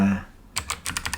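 Quick, close clicks of keys being tapped on a computer keyboard, a short run of keystrokes after a brief hum.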